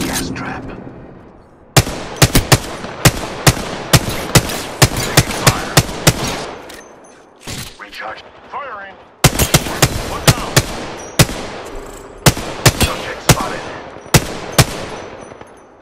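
Close, loud machine-gun fire crackles in rapid bursts and single sharp shots, coming in two long volleys separated by a short lull with a voice speaking underneath.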